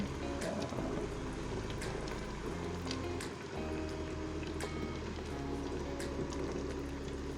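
A pot of potatoes boils vigorously and close by, with steady bubbling and popping and lots of steam, no talking.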